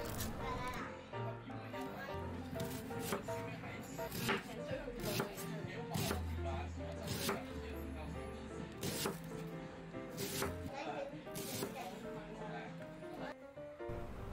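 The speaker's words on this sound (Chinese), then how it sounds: "跟住咧，我哋会切开啲洋葱先嘅。" Onion being cut with a knife in a home kitchen while pork chops are prepared: a quiet, irregular series of sharp knife taps against a board over a low, soft background.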